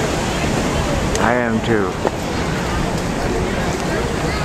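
Steady outdoor wind rushes by a river lined with cherry trees shedding blossoms into the water, a constant broadband blowing that stays loud throughout, with a brief spoken reply partway through.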